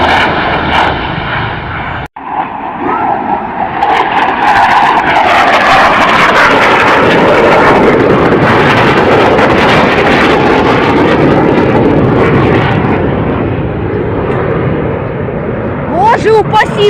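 Jet aircraft over a war zone in Ukraine, flying top cover, pass overhead as a loud, sustained broadband roar that swells and holds for most of the stretch, with voices audible beneath it.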